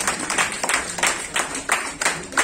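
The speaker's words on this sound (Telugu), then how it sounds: "అందరూ కూడా ఒకసారి బిగ్ క్లాప్ ఇవ్వండి" A room of attendees at a training workshop clapping together in a brief round, loud rhythmic bursts of hand claps at a steady pace, close and without talk.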